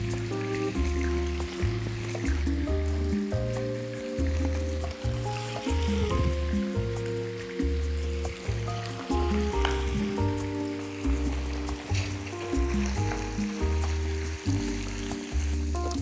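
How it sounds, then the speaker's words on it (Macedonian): Meat frying in melted fat in a pan gives a steady, close sizzle that runs without a break beneath prominent background music. "Сега месото ќе го оставам полека да си се пржи"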